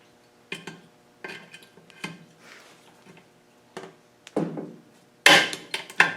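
A pop rivet gun sets rivets on a 2.25 engine during front seal, oil pump and chain tensioner work, giving a series of close, sharp metallic clicks and snaps in irregular bursts, the last ones loudest.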